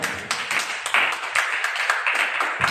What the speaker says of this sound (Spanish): De palmas en esta hora.